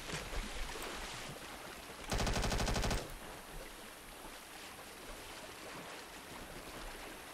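Video-game jungle firefight set in Vietnam: a sudden burst of rapid automatic gunfire lasting about a second rings out over a constant rushing water-like ambience, fairly quiet overall.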